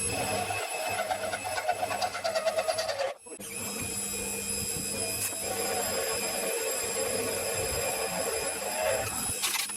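A reground milling cutter bites into aluminium, producing a steady high-pitched machining whine with rhythmic chatter that stops abruptly for a moment, then resumes at a continuous even tone.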